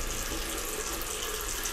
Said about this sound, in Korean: 그 후로도 화장실 물소리는 계속됐고